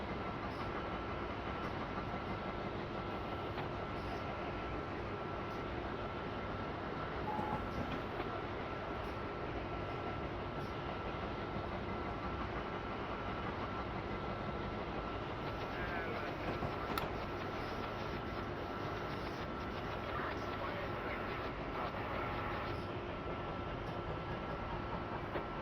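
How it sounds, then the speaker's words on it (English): A train running on rails along the Northeast Corridor, a steady rumbling cab-level drone with faint rhythmic clicks and a humming tone, continuous and moderately quiet throughout. "Okay, let's get this train stopped."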